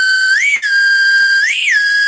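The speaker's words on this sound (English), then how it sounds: "The whistle pop. It's a celebration." A whistle pop candy whistle blown as a celebration, a loud, shrill steady tone that rises in pitch twice, with a brief break between the two blasts, close and alone.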